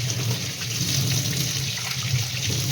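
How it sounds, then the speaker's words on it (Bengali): Running water splashes steadily as a boti, a Bengali kitchen blade, is rinsed and scrubbed under a tap, a close, continuous wash with no talking. "আর বটিটা ধুয়ে নিই একটু মেজে নেবো"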